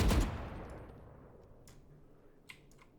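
Valorant Phantom and Vandal rifles fire in a quick side-by-side burst inside a video game. Sharp, loud opening shots fade into a decaying tail, and a couple of fainter clicks follow near the end, with no talking.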